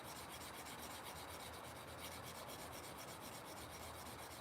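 A scandi-grind folding knife blade drawn steadily over a sharpening stone, giving a continuous close rasping scrape with a rapid back-and-forth pulse, even in loudness throughout and with no talking.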